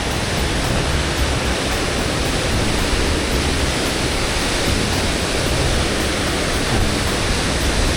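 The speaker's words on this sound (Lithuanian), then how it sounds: "čia Krioklys prie pat" A waterfall in a forest roars close by as a loud, unbroken wash of rushing water that fills the whole clip.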